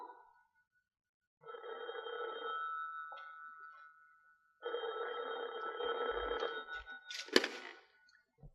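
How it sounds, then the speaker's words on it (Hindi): An old landline telephone bell rings in two long bursts separated by a short pause, a bright metallic trill that is moderately loud in a quiet indoor room, with a short clatter at the end. "अरे भाई, कोई टेलीफोन तो उठा लो।"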